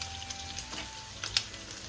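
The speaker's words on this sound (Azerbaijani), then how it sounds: "Və ətimiz orada bişir." Steak frying in a pan, a soft steady sizzle with faint crackles and a couple of brief sharper pops near the end, quiet and close, with no talking.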